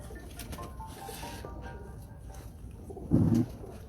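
Female pigeon giving a single short, low coo near the end, faint and close, over quiet room noise.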